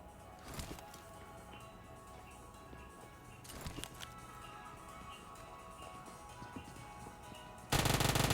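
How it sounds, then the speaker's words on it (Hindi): Gunfire in the PUBG Mobile video game, with a couple of sharp shot bursts spaced seconds apart, fairly quiet against a steady game background, followed by a loud noisy burst at the end. "मैंने प्री फायर दी स्कारल की और इसको मैंने मार दिया"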